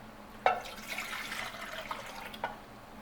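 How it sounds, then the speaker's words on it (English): Two cups of water go into a Hungarian mess kit set up over a Swedish Trangia alcohol stove, a faint splashing pour with a sharper splash near the start and another brief one toward the end, in a quiet setting. "I'm going to put 2 cups of water."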